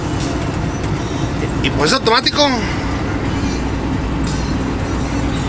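A Cummins ISX 450 diesel engine idles at about 1030 rpm in an automatic truck cab, giving a steady low rumble throughout, with a man's brief speech over it.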